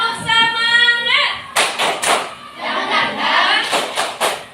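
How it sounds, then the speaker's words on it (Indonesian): An Indonesian class group does a rhythmic spirit clap: after a brief sung or chanted voice, several sharp, patterned bursts of group clapping follow in a steady beat, close by. "Diana, tepuk semangat."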